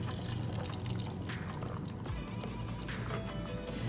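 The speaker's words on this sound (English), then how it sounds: "Take your strainer and just pour it straight into your glass." Strained cocktail, a honey truffle sour, poured into a glass, a soft continuous trickle and splash close by, fairly quiet, with no one speaking.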